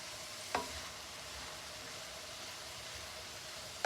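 Chicken chunks sautéing in a pan for chicken pot pie give a steady, even sizzle throughout, with one brief utensil clink near the start and no talking.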